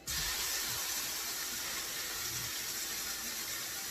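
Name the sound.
steaks sizzling in oiled skillet with macadamia nut oil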